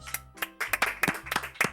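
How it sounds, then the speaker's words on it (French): A small group of people clapping during a French gaming session, with scattered, uneven claps in short bursts that sound close and fairly quiet. "Merci de m'applaudir."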